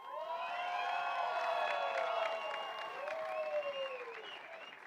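A crowd at a men's boulder and lead climbing final in Pretoria applauds the route setters, with sustained clapping overlaid by loud cheering and whooping voices that swell and then gradually fade.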